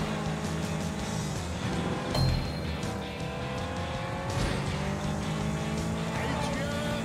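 A taxi driven through city streets in Sleeping Dogs, its engine droning steadily with brief tire and road noise swells while a person talks over it throughout.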